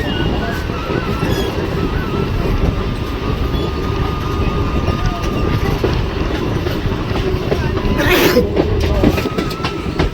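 A train runs at speed on the Kolkata suburban line, giving a loud, continuous rumble of wheels and carriages close by, with a brief hiss of noise near the end.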